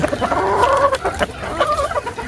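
A hen clucks repeatedly up close, a series of short throaty calls with a rising squawk, no talking.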